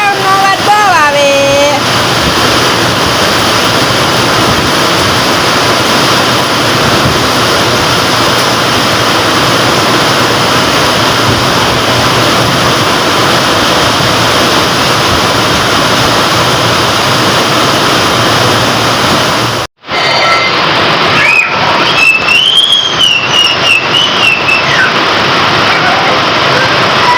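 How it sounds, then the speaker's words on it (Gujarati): Heavy rain drums steadily on a tin sheet roof, loud and continuous for most of the stretch, then after a brief cut a softer wash of rain continues alongside faint whistling tones. "લે જો વરસાદની બાકાજીકી ચાલુ થઈ છે ભાઈ. અમારે પતરાનો બેકગ્રાઉન્ડનો અવાજ બહુ આવે."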